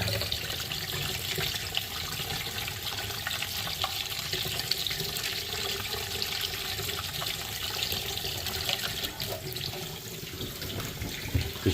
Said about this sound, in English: I just use hot water